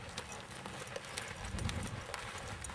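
Hooves of an older horse being ridden forward, a faint steady clip-clop of footfalls on the ground, soft and somewhat distant.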